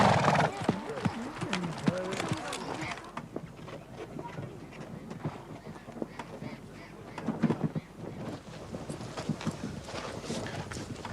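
Horses' hooves clip-clop at a walk amid a busy outdoor scene, with voices and a neigh-like cry early on.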